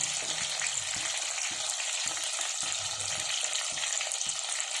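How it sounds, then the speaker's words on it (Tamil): Crushed small shallots frying in a pan for a chicken fry, with a steady, close crackling sizzle and soft stirring scrapes throughout. "அந்த வெங்காயத்தை இப்போ நான் ஆட் பண்ணிக்கிறேன்"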